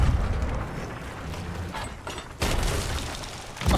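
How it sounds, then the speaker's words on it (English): A ship's cannon in a pirate video game fires a heavy boom, then a second loud blast follows a moment later amid rumbling game noise and clatter, with no voices. "Dan, use that cannon to kill the skeleton"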